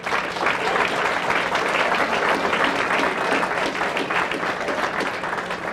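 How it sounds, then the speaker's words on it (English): Steady, dense applause from an audience at a political campaign kickoff speech, many hands clapping together without pause for several seconds. "let's give a round of applause for Joe Brennan."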